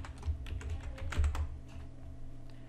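Someone types text on a computer keyboard while working in Adobe Illustrator: a short burst of quiet, close keystroke clicks at an uneven pace, with the last few clacks coming a bit louder.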